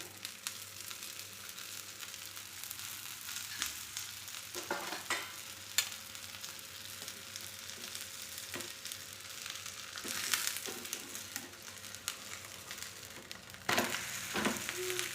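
Wheat flour adai frying in oil in a pan: a soft, continuous sizzle runs close throughout, with occasional scrapes and taps of a spatula against the pan.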